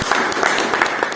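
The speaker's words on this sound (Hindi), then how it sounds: "मैं उनके लिए एक बार जोरदार ताली चाहता हूँ" An audience at a business meeting in Bongaigaon, Assam, applauds with a dense, steady wash of many hands clapping, loud and continuous throughout with no talk over it.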